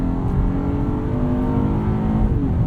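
A 2020 Acura MDX AWD Advance Package in sport mode pushes hard through a corner, its engine droning loud and close with a rising, strained tone under steady road rumble, no voices heard.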